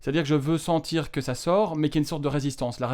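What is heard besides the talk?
No distinct noise like a dog, phone or traffic.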